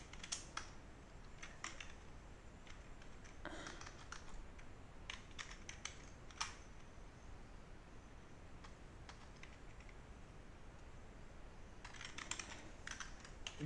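Typing on a computer keyboard comes through as quiet, irregular clusters of close key clicks against a faint background hiss, with no talking.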